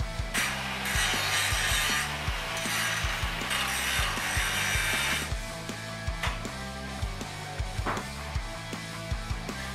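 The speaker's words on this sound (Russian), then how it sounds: "Немного подровнял края шлифовальным кругом." A grinding wheel smooths the edges of a metal cleaver blank, producing a loud, rough hiss for several seconds that then gives way to a run of light, regular clicking and tapping.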